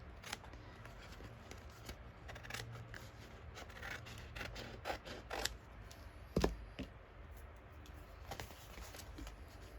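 Scissors trim excess paper from a junk journal collage, a quiet series of small, crisp snips and rustles spread irregularly over several seconds, close by and alone.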